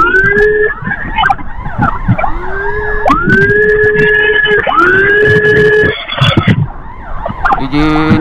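An ambulance siren wails during a patient transport escort on a busy road, loud and close, rising and falling tones repeating in long sweeps, with a short burst of different electronic tones near the end.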